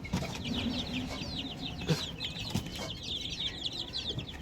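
Young chickens, about a month old, clucking in a small village farm pen, several birds close by making repeated short clucks with brief wing flutters scattered throughout.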